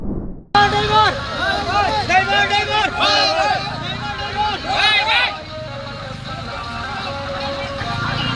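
Many voices rise together in a loud, overlapping crowd of drivers at a protest march against the hit-and-run law in Teliamura Maharanipur, with shouted and chanted calls over steady street noise.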